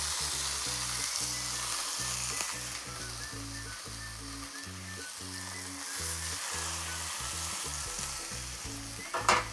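Meat for saltimbocca fries in a pan with a steady, close sizzle throughout, while light background music plays along underneath.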